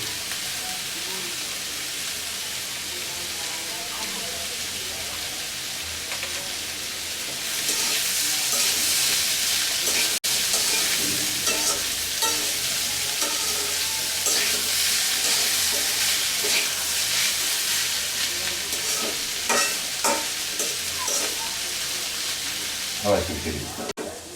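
Sliced pumpkin fries with nigella seeds in a pan. A soft background hiss swells into loud, steady sizzling midway, with scraping stirring strokes and light clatter running on, and some talk underneath.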